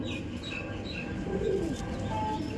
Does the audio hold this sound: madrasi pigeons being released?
yes